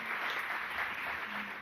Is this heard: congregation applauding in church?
yes